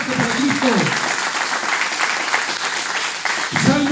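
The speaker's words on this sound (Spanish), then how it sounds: "Si querés podés aplaudir, ¿eh?" Congregation applause during a church sermon, steady dense clapping that continues for several seconds while a preacher's voice speaks over it at the start and again at the end.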